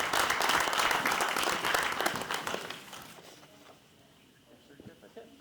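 Audience applause at a Crest Hill city council meeting for Christmas light display winners, a dense burst of clapping that fades after about three seconds into quieter scattered claps and room noise.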